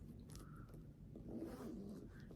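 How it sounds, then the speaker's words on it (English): A double zipper on a knitting bag being worked, a soft close scratchy zipping that runs in short pulls with slight rasping texture, quiet and alone. "look at this zipper. It's a double zipper."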